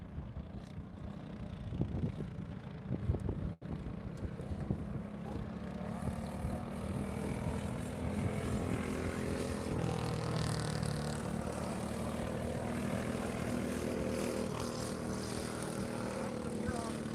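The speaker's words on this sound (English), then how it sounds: "I hear some engines firing" Race car engines fire up and rumble steadily at a Midwest Race of Champions event, a broad continuous roar that holds for most of the stretch with wind buffeting the microphone.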